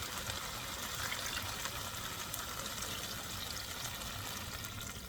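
Water pours steadily into a pot of Filipino chicken stew with tomato and bok choy, a continuous, even splashing rush with no talk.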